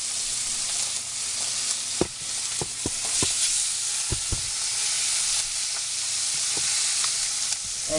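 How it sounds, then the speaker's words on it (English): Pork braises in a pan with a loud, steady sizzle and hiss, broken by occasional sharp clicks and taps of stirring or moving the meat. "I'm gonna braise it in the pan. Ah, listen to that."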